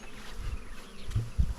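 Honeybees buzz around an opened hive, short low droning bursts from bees flying close by.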